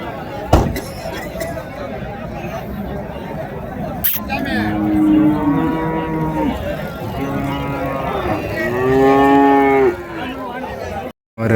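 Cattle at a large cow market in Tirupattur district lowing repeatedly, several drawn-out moos rising and falling over a busy outdoor background with a brief clink.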